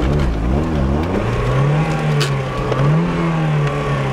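A Mazda Miata engine is held at a rough, loud rev near an intersection to keep it from stalling, the pitch wavering up and down close by with no talk.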